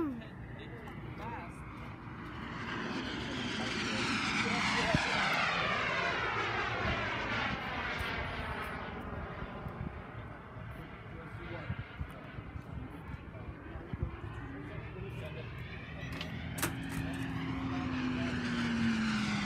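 A single-engine RC model jet sweeps in to land at a flying field, its turbine whine rising and falling in pitch as it passes close and loud, steady throughout, with people talking in the background.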